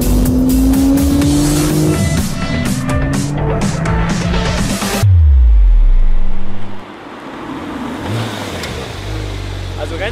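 A Porsche 911 Turbo S (991, 2014) sweeps around a racetrack, its engine revving and rising in pitch through the gears, then dropping into a deep boom and rumble as it passes close. Tire noise is mixed in, and a voice speaks over part of it.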